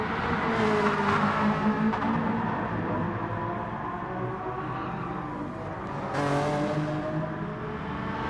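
Lamborghini and Ferrari race cars battle in close traffic, with a continuous loud engine roar, shifting revs and a whooshing pass near the end.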